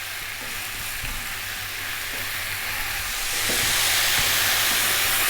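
Halved mushrooms fry in a pan on high heat for a Chinese chicken and mushroom dish, giving a steady close sizzle and hiss that swells louder toward the end, with no talking.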